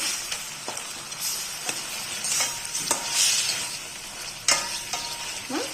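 Brinjal (eggplant) for a crushed-spice dish is turned and stirred over a low flame, a steady frying sizzle broken by repeated scraping strokes of a spoon against the pan, close and fairly quiet, with no voices.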